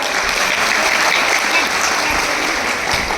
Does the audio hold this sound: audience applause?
yes